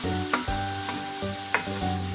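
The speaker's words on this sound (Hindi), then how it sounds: "अब ये सारी चीज़ें शामिल करके मसाले को अच्छे से भून लेना है ताकि इसका कच्चापन खत्म हो जाए।" Masala spices with turmeric and dried coriander roasting in hot oil, giving a steady close sizzle broken by a few sharp scraping stirs, with no talking.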